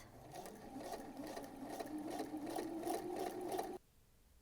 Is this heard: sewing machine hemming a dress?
yes